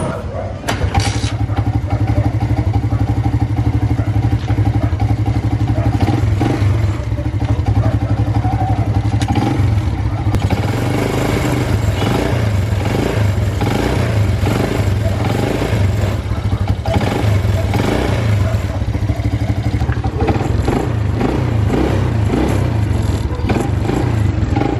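A Wave 100 motorcycle engine idles loudly and steadily nearby after an exhaust gasket install, tested for exhaust leaks, with a rattly clatter, as someone talks over it.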